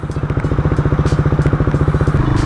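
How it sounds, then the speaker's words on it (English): The engine of a KTM 390 Duke motorcycle fires and settles into a loud, close, rapid idle, with even thumping pulses at a fast steady rhythm. "Bike started first time."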